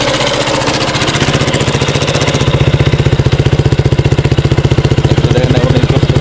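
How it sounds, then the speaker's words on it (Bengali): A modified Wuyang 125cc motorcycle engine idles at raised revs with a hand over the silencer mouth, giving a loud, fast, even exhaust pulse that grows sharper and more thumping partway through. "এখন সাইলেন্সারের মুখে হাত দিয়ে আমরা ইঞ্জিনের সাউন্ডটা শুনি"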